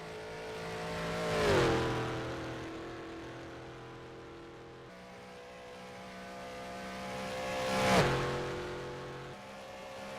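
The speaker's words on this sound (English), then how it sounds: "Now he's going flat out along here in a car." A race car on the Isle of Man time trial passes twice at speed, each pass a rising engine whine peaking close by then dropping in pitch as it recedes, with a steady distant engine drone between.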